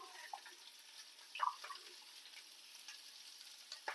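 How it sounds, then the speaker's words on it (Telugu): Tomato frying in a pan for a vegetable paneer keema masala curry, a soft, faint sizzle with a few light stirring clicks and scrapes, no talk. "వేగిన తర్వాత టమాటా మగ్గాలి"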